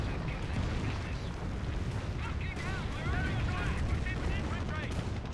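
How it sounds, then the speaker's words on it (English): Rocket artillery barrage from a Calliope launcher in Company of Heroes, a dense rumbling roll of launches and blasts that fills the whole stretch without a break. "Here comes Calliope rocket barrage for some fire support."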